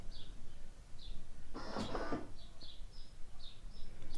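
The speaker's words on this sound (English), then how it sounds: "So we want to start by pressing the on-off button at the front. This will then turn the machine on." A Gaggia Cadorna espresso machine powering on from its front on-off button gives one brief mechanical whirring burst, with faint chirps sounding in the background before and after.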